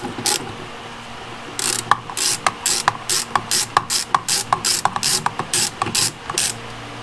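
A hand ratchet loosens a 3/8 bolt holding a door strap on a Foxbody Mustang door, a close, steady series of sharp clicking bursts repeating in quick rhythm with no talk.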